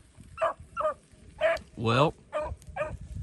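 Beagles on a rabbit hunt give short, yelping bays and one longer, ringing howl, with someone talking between and over them at close range.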